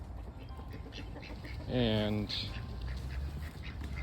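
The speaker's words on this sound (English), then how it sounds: "Got ducks and chickens" A single short quack from backyard ducks at an off-grid homestead with chickens, heard briefly and moderately close over steady outdoor background noise.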